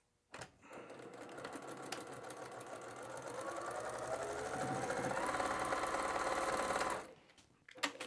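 Sewing machine running a row of stitching on a patchwork drawstring bag, a close continuous whirring hum that builds for about six seconds and then stops.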